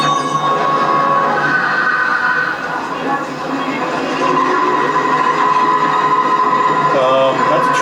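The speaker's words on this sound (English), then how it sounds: "That's a train." A train rumbles past at close range, a loud, steady rolling roar that holds throughout, with voices talking underneath it.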